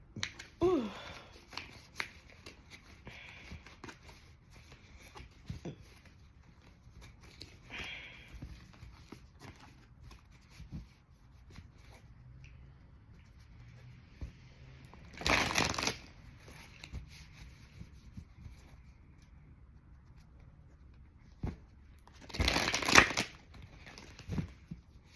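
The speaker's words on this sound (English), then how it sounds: "Let me shuffle this one." Playing cards are shuffled in two short, crisp riffling bursts over a quiet room with faint handling sounds in between.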